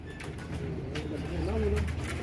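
A pigeon coos in soft, low, warbling notes at close range while someone talks over it.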